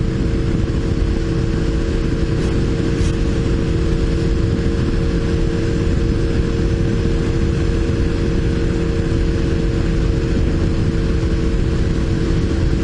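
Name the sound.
motorcycle engine bogging while riding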